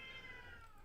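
A cat meows close by in one drawn-out, steady call of just under a second, with no talk over it.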